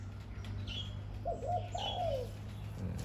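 A prized Thai auspicious cooing dove with a 'liu tan' style voice gives a few rolling, bubbling coos at moderate distance over a low, steady background hum.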